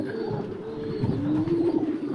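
Mayil fancy pigeon cooing close by, soft low throaty coos rising into a longer warbling call, with no talking.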